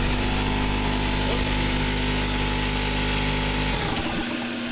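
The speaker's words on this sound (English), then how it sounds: "I'm having to use my large air compressor that I have for tools" A large shop air compressor for tools runs with a loud, steady motor drone and hum that cuts off near the end, with no talk.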